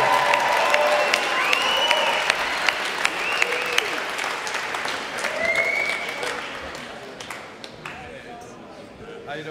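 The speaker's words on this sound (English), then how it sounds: "Give him a round of applause." Steady applause from a concert audience at a show at MONA fills the whole stretch, with scattered whoops over the clapping, which slowly thins toward the end.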